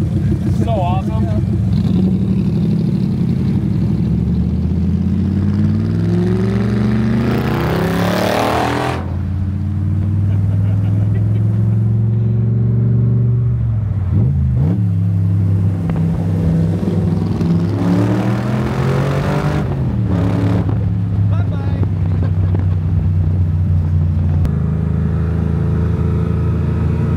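A custom pro-touring 1967 Camaro engine roars as it accelerates through the gears, loud and close, with repeated rising revs and gear-change dips, while people talk over it.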